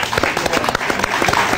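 Dense, steady audience applause at a cultural association event, loud and close throughout.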